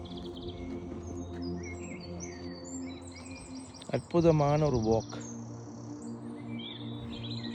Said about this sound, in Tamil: இந்த குருவிகளுடைய இன்னிசை பாடல்கள் இருக்குதே